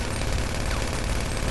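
Rapid gunfire from a GTA Online heist shootout, a dense continuous burst of shots filling the whole moment with no speech over it.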